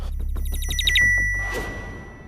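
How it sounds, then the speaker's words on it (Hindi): A telephone rings with a fast electronic trill, one burst of rapid repeated tones followed by a sustained tone that fades, close and clear. "कमली का फोन उठाओ ना, स्पीकर पे लगाओ।"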